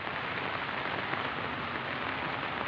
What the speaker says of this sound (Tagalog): talagang tuloy-tuloy ang pagulan